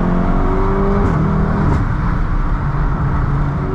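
A 400 hp VW Golf R accelerates at full throttle, its engine droning steadily and loudly from inside the cabin, with a steady rising tone and a brief shift-like break midway.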